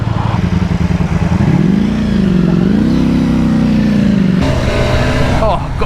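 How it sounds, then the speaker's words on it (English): BMW S1000R 2023 motorcycle engine idling on choke, a loud, steady, vibrating rumble whose pitch rises and falls slightly before it changes tone near the end; a person speaks briefly over it. "Whoa, this is vibey on choke."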